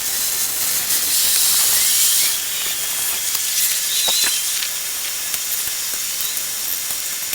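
Steady hiss of heavy duty degreaser sprayed onto the axles of a giant Cummins-powered truck, a loud continuous spray that swells for a couple of seconds, then settles into a softer, even hiss with no talk.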